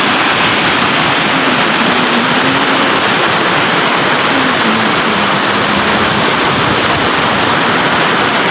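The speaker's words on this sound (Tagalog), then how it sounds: "Yun yung river mga katos." The Taludtud River in Majayjay, Laguna rushes in a loud, constant wash of flowing water that fills the whole stretch, steady and unbroken, with a faint low hum drifting underneath.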